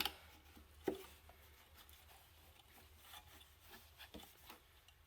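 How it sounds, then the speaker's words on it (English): A rag giving a quick wipe to a trash-picked generator, faint close rubbing and scuffing strokes with a couple of sharper knocks, quiet and irregular. "Give that a quick wipe."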